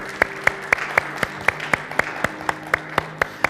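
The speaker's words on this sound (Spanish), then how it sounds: "¿Por qué no le damos un aplauso al Señor?" Rhythmic clapping from a church congregation applauding the Lord, sharp evenly spaced claps at a steady beat, about thirteen in three and a half seconds.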